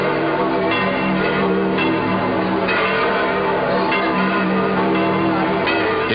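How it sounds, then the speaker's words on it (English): Vatican church bells ring in Rome in 1944, heard as dense, overlapping clangs in an old, band-limited recording with a faint murmur of a crowd beneath. "The sound of bells from the Vatican announces the appearance of His Holiness Pope Pius XII."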